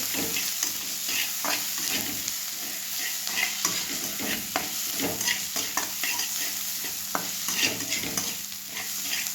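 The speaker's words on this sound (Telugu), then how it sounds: "ఇప్పుడు దీనిలోకి అల్లం వెల్లుల్లి పేస్ట్ వేసుకొని ఇది కూడా బాగా కలిసేలాగా కలుపుకోవాలి" Ginger garlic paste is stirred into onions frying in a pan, with a steady crackling sizzle broken by repeated scraping strokes of a spoon against the pan at an irregular rhythm, close and moderately loud.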